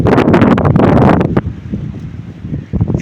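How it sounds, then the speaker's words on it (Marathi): Strong wind buffets the microphone near fields on the Konkan coast, with heavy gusting rumble at first, easing to a softer blowing, then gusting again. "वारा लागतोय काय"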